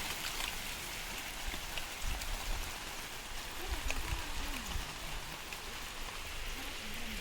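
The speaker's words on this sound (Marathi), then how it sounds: "पाऊस सुरू झाला" Heavy rain falls continuously on a tomato field, a loud wash of hiss and splatter on surfaces, with a faint low murmur underneath.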